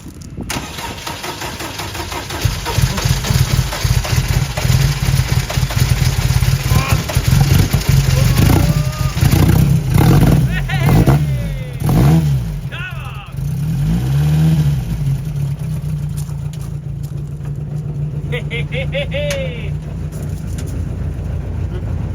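A car engine cranks, catches and runs close by, with rough revving surges and a steady idle between them while people talk and exclaim over it.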